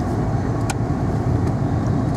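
A car pulls out of a residential street at night, its engine and tyre rumble steady and close from inside the vehicle.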